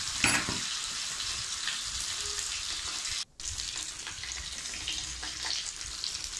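Marinated raw mango pieces stirred in a hot frying pan, giving a steady sizzle with scraping spoon movements and one brief cut partway through.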